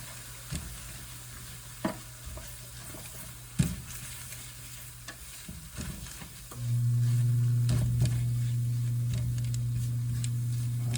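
Flour cooks in fat in a pan to make a roux, starting with a few scattered stirring taps, then a steady close sizzle that holds over a low hum for the last few seconds, no talking.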